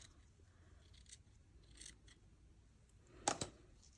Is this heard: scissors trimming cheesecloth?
yes